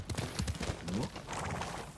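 Horse hooves clip-clop in the video game Ghost of Tsushima, a quick run of fairly close, rhythmic thuds over game music and ambience, with a brief whinny-like tone midway.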